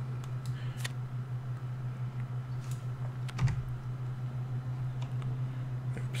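Computer keyboard keys are tapped in a few sparse, light clicks over a steady electrical hum while playing a digital Pathfinder Adventure Card Game.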